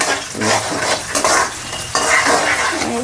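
Masala for a fish pulusu fries in oil in a pan, a loud close sizzle with repeated scraping and clinking stirs of a metal spoon against the pan in uneven bursts.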